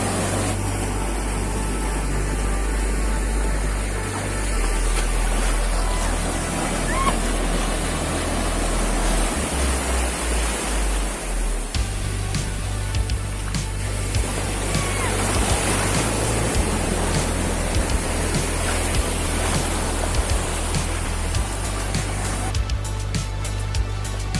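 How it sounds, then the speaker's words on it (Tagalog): Steady roar of ocean surf on Bagasbas Beach with waves washing and breaking, a broad rushing noise that swells and ebbs throughout, with faint wind. "Ang ganda ng alon, no?"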